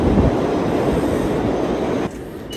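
A New York City subway train passing, a loud continuous rumble and rail roar that drops off sharply near the end as the cars move away.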